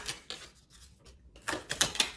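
Tarot cards are shuffled by hand in a few quick papery bursts of riffling and tapping, soft and near, separated by short pauses.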